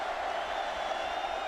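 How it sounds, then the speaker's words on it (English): Stadium crowd roaring steadily at a Kansas State vs Texas college football game, a dense, sustained wash of cheering noise with a faint voice over it. "Crowd getting into it."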